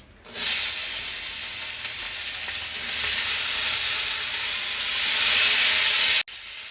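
Onion and garlic hit hot oil in a pan and burst into a loud, steady sizzle that holds without a break for about six seconds, then cuts off abruptly, with no voices.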